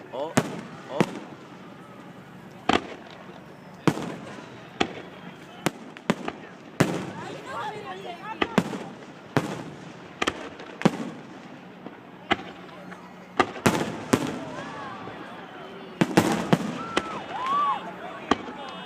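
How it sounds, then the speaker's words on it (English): A fireworks show bursts in a rapid, irregular string of sharp bangs and pops, some near and some farther off, while people talk and exclaim throughout. "It's a lot of fireworks."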